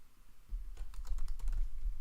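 Computer keyboard keys pressed for a shortcut during Photoshop work, a quick cluster of close, crisp clicks over about a second with a soft thud underneath, no voices.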